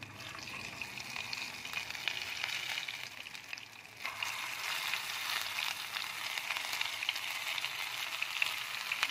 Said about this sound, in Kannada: ಎಣ್ಣೆ ಬಿಸಿಯಾಗಿದೆ ಇವಾಗ ಸಾಸಿವೆ ಸೇರಿಸ್ತಾ ಇದ್ದೆ ಇವಾಗ ಬದನೆಕಾಯಿ ಸೇರಿಸ್ತಾ ಇದ್ದೀನಿ